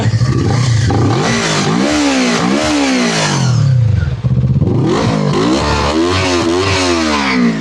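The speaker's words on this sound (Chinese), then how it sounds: "这个时候我们扭油门啊，扭油门" A KOVE 250RR, a 2024 250cc twin-cylinder sport motorcycle in stock factory condition, revs hard under repeated throttle blips, its exhaust note rising and falling in loud close sweeps with a brief dip midway.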